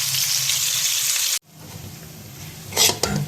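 Onions fry in a pan for a mixed vegetable sabzi, first as a loud, dense sizzle that cuts off abruptly, then as a quieter crackle with a couple of sharp stirring scrapes.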